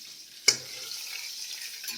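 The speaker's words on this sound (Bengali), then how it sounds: "সুন্দরভাবে দেখুন মাছগুলো কি সুন্দর ভাজা হয়ে যাচ্ছে" Fish fry in hot oil with a sudden loud crackle as they hit the pan, then a steady bright sizzle that carries on close up, with another small pop near the end.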